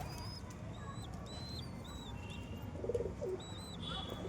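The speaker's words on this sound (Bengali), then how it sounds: "ও পায়রার খাঁচা, আর ওই দেখো পায়রা" Pigeons in a backyard cage coo softly, with a low burbling call rising briefly among faint chirps over a constant low background hum.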